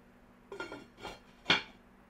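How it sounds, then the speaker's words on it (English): A lid goes onto an Instant Precision Dutch oven in three quick contacts, two soft knocks and then a brighter metallic clink, close and alone in a quiet kitchen. "Gonna place the lid."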